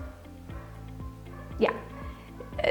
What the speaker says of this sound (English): he can't stop barking